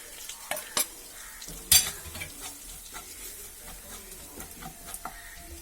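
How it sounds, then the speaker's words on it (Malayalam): Plain and Kashmiri chilli powder fry in coconut oil for mango pickle, a soft continuous sizzle under sharp spoon clinks and scrapes against the pan as it is stirred, a few louder knocks standing out. "നമുക്ക് സാദാ മുളകും കാശ്മീരി മുളകും ഓരോ സ്പൂൺ വീതം ഇട്ട് കൊടുക്കാം കേട്ടോ വെളിച്ചെണ്ണയിലേക്ക്"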